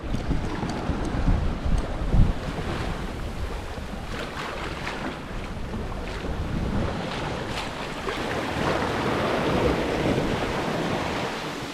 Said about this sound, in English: the wind has increased just a bit, Probably we're up to 12 knots of wind now